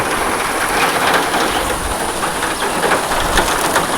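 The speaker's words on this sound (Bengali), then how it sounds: "জোর বৃষ্টি আসছে। সারাদিন গরম রেখেছে, আর এখন বৃষ্টি পড়ছে।" Heavy rain pours down in a rural village, a dense, steady roar of broadband hiss that stays loud and unbroken from start to finish, with no voices.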